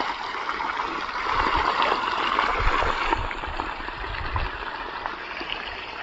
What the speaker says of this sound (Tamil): இன்றைக்கி நம்ம காட்டில் வந்து எள்ளுக்கு வந்து தண்ணி பாய்க்கிறோம்